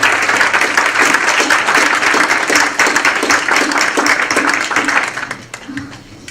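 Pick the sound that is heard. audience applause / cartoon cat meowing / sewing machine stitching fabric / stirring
audience applause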